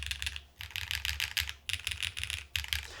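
Bursts of typing on a Space80 mechanical keyboard fitted with firm-sprung M1 switches on an FR4 plate, rapid close clacks in three quick runs with short pauses between.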